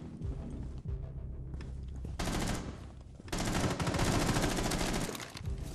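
Rapid bursts of gunfire from a round of Rainbow Six Siege, loud and close, with dense automatic fire in two long stretches broken by short quieter gaps.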